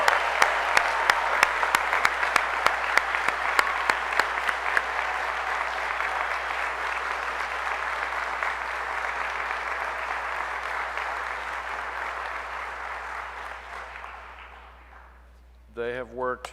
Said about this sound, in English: Let's give a round of applause to the world's newest PAs right there.